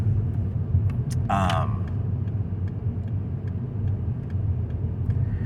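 Road traffic heard from inside a moving car, a steady low rumble of the road and engine with faint ticking and a brief voice cutting in near the start.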